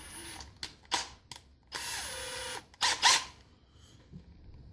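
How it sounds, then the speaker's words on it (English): A small drill bit starts holes in an acrylic turkey pot call: faint, intermittent whirring bursts of varying length, separated by short silences, quiet and close in a workshop. "I'll just use a small drill bit, center myself in each hole, and just start it."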